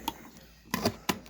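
Scissors snip through the tight packaging band on a Hot Wheels Premium Advan toy box set, giving three short, sharp cuts close by, with faint background noise between them.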